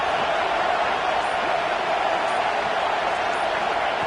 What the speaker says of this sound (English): The noise. This crowd is trying to inspire this defense to make a big red zone stop.